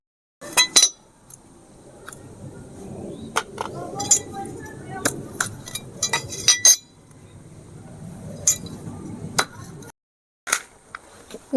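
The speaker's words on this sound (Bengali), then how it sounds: "এবারে নারকেলটা ফাটিয়ে নিচ্ছি।" A coconut being cracked and cut in a village kitchen, with sharp metallic knocks and clinks of a blade striking the shell, scattered irregularly among scraping and quieter handling sounds, with a speaking voice present.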